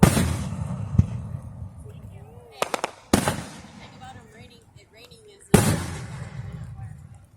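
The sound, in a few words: birthday fireworks exploding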